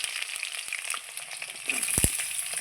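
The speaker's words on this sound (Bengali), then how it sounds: "এখন আমি পেটে ধুয়ে রাখা কোয়াশগুলো এর মধ্যে ছেড়ে দেবো" Pieces of squash dropped into hot oil with frying potatoes give a loud, steady sizzle and crackle, with a brief clatter of stirring near the end.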